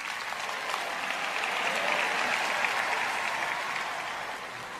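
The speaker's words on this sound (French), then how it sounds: "Applaudissez plus fort que ça" Congregation at a French-language sermon gives sustained applause, a dense even crowd clapping that swells slightly in the middle and holds steady for several seconds.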